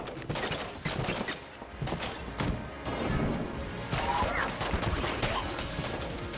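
Rapid gunfire from the unfinished gun in Enter the Gungeon, a dense run of sharp cracking shots and impacts with brief pauses, fairly quiet overall and layered with game effects.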